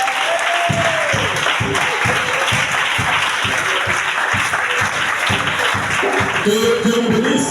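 A church congregation applauds to acclaim the Lord, a dense, continuous wash of clapping that stays loud and steady throughout.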